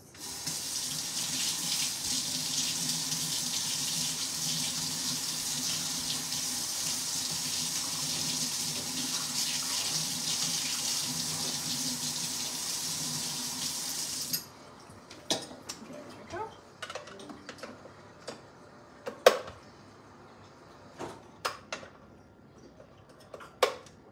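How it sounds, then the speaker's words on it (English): Kitchen tap water runs steadily into a sink while items are rinsed during cheesecake muffin prep. After the water shuts off, a few light clinks and taps of dishes follow in a quiet room. "I'm gonna rinse these really quick, even though it's all gonna get mixed together anyway."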